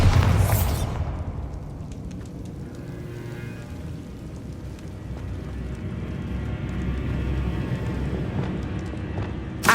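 A Bombarda spell explosion in Hogwarts Legacy bursts loudly at the start, then trails into a long, low rumbling roar that rolls on and swells slightly near the end.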